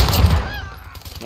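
A brief burst of hip-fire gunshots in Call of Duty: Modern Warfare hardcore team deathmatch, loud at first and then dying away within about a second.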